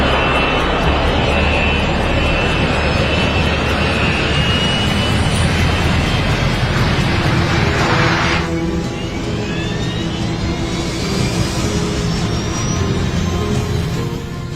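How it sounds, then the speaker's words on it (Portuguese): A Northwest Boeing 727 jet rolls for takeoff on runway 3 center with a loud, continuous engine roar that shifts in tone partway through as a rising whine emerges. "O 727 está a segundos de deixar o chão."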